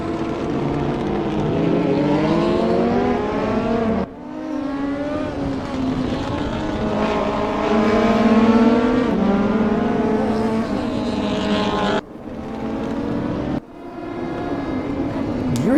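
A DTM race car at the Nürburgring GP roars past over about sixteen seconds, its loud engine climbing through gear changes with sharp breaks between shifts, the tone sliding as it passes and fades.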